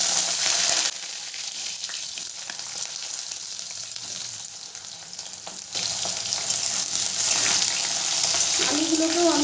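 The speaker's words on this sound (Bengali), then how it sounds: "আলুগুলোকেও আমি ভালো করে ভেজে নেব" Cut potatoes fry in hot oil with panch phoron five-spice and a dried red chilli, making a continuous close sizzle that grows louder in the second half as they are stirred.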